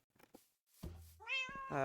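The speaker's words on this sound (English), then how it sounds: "Random cat." A cat meows in the Minecraft video game: a few faint clicks, then a short low cry followed by two clear, rising meows, close and alone.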